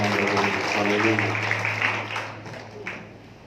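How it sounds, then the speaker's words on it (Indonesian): Congregation clapping during an Indonesian evening prayer and fasting service, a steady dense patter sustained for a few seconds and fading toward the end, mixed with voices and a sustained tonal backing. "Kita berikan tepuk tangan kepada Tuhan."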